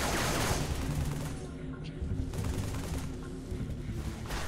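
Gunfire from Halo 3 sniping, a broadband sustained rumble of shots and battle noise, loud at first and then settling into a steady busy din.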